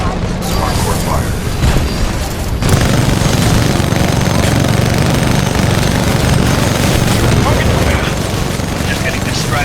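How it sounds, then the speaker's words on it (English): Heavy battle noise from the video game Titanfall 2, with loud, continuous rumbling gunfire and explosive booms that run without a break and sit under occasional game voice lines. "Just getting distracted by all crappy shooting"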